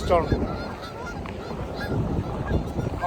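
Gulls call out several times over steady outdoor wind and traffic rumble in Toronto after a snowstorm, moderately near, with harsh honking cries scattered through.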